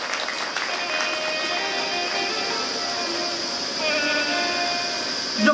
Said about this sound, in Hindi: एक बार जोरदार ताली बजा करके आप सब उनका